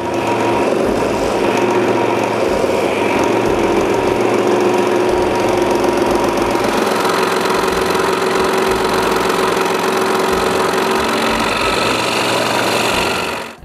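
Saw cutting walnut pieces for an intarsia lighthouse, a steady, loud, close mechanical hum and whir running continuously throughout with no speech.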